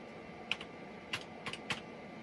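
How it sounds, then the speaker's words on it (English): Quiet, sparse keystrokes on a Compaq computer keyboard, a handful of separate clicks spaced irregularly over faint background hum. "Compaq keyboard works like gangbusters so far."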